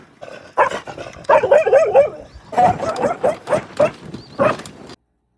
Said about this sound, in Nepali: अब यस्तो भुक्छन् कि यिनीहरू